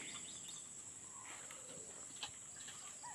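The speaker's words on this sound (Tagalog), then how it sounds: "Awit lang ng ibon yung marinig mo." Faint, distant birds chirping now and then over a quiet outdoor hush with a soft insect hum.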